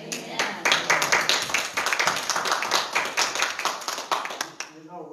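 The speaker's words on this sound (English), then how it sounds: "I hear pretty good applause out there" A church congregation applauding during a Sunday service, a steady run of close, crisp hand claps that builds quickly, holds for several seconds and then fades out.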